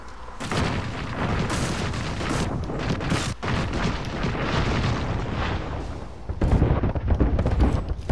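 Artillery strike in the video game Apex Legends, a sustained barrage of heavy booms and blasts rolling on for several seconds, loud and dense, swelling louder again near the end.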